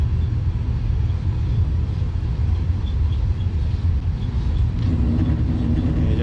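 Aircraft engines at takeoff thrust fill the cabin with a loud, steady, low rumble that holds throughout.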